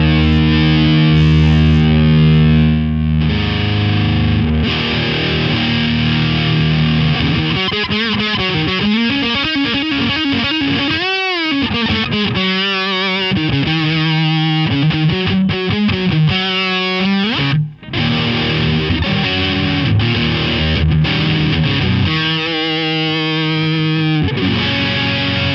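Electric guitar played through the second drive setting of a distortion pedal, thick saturated chords and sustained notes with bends, loud and continuous for about 25 seconds with no talking.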